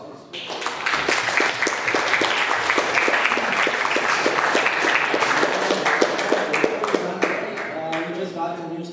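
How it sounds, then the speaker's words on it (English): Audience applause after a talk session at a cryptocurrency meetup, a dense sustained burst of clapping from a room of people lasting several seconds before easing off as a voice begins. "round of applause, please."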